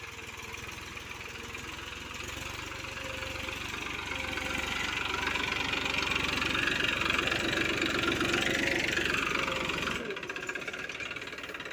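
A tractor engine idles steadily, close by, with a mid-pitched rumble that rises slightly in loudness for about ten seconds before cutting down abruptly near the end, in a farm setting during wheat-sowing preparations.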